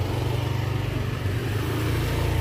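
A motorcycle engine runs close by with a steady, throbbing low drone as the bike is parked, holding an even, loud rumble throughout with no one talking.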